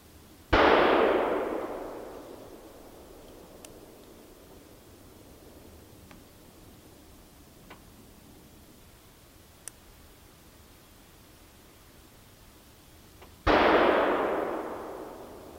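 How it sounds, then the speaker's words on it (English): Two distant rifle shots ring out during a snowy Wisconsin deer gun hunt, one near the start and one about thirteen seconds later, each a sharp crack with a fading echo, separated by quiet outdoor ambience. "Obviously, you guys heard a couple shots."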